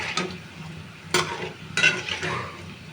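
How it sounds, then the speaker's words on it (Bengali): Palm fritters (taler bora pitha) sizzle in hot oil while being stirred and turned, giving a close, steady frying hiss broken by a few sharp scraping strokes of the utensil against the pan. "এবার একটু নেড়ে চেড়ে ঘুরিয়ে ঘুরিয়ে ভেজে নেব।"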